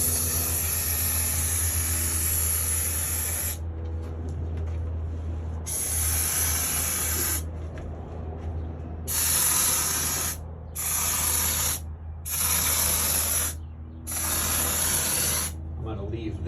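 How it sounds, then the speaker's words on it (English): Spray-foam insulation being applied inside a steel enclosed trailer during a camper conversion: loud, close hissing spray bursts of a few seconds each, five or six of them separated by short pauses, over a steady low mechanical hum. "I like spraying thin coats on first, then coming back once it's had a chance to set"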